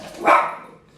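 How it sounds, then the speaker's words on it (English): A single dog bark rings out at middle distance, one sharp woof with a short fading tail, heard alone without talk. "Excuse my dog in the background."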